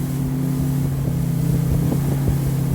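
Close, steady drone of a Smokercraft Osprey 162 outboard boat engine running at planing speed, with a low humming tone and slight rises in pitch under some wind.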